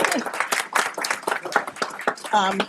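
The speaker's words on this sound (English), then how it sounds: "Let's give our utility providers a round of applause" A county government audience briefly claps for local utility providers, scattered hand claps mixed under a voice speaking over them.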